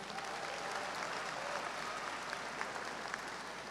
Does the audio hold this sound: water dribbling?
no